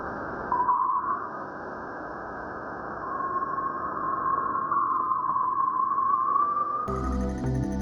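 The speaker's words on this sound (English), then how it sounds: "There, it still senses the shock waves emitted by the sun, which sound like this" Solar shock waves sensed by Voyager 1 in interstellar space, rendered as sound: a steady, eerie tonal whine that slowly rises and swells over a low rushing hiss, ending with a sudden burst of dense buzzing.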